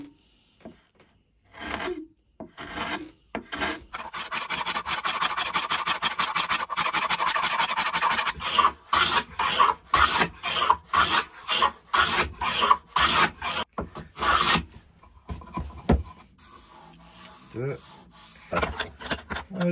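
Steady rasping strokes of filing or sanding on the wooden depth stop of a Record No 44 plough plane, a long continuous stretch followed by shorter, choppy strokes, close and fairly loud with no talking.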